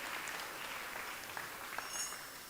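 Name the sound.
applause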